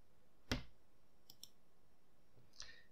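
Three sharp clicks from a computer mouse being right-clicked during desktop file work on Ubuntu: a strong click near the start, two faint ones midway and a moderate one at the end, alone in quiet.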